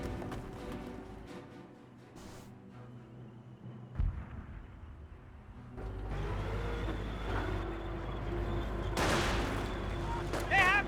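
In the Company of Heroes video game, a sniper fires and gunfire breaks out: sharp cracks and bursts of shots over rumbling battle noise, growing louder and busier toward the end.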